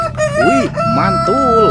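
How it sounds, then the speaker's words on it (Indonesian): A rooster crows in a toy's sound effect, a loud close cock-a-doodle-doo with drawn-out rising and falling notes, while a person speaks briefly over it. "Ada ayam berkokok."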